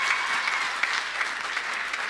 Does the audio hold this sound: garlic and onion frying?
no